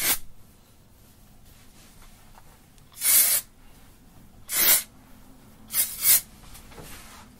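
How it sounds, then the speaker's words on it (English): Texturizing spray misted onto hair during clip-in hair extension styling: four short hissing bursts, one near 3 seconds, another around 4.7, then a quick double puff near 6, close and clear over a quiet room. "then I go back into the texturizing spray and just mist it through the hair."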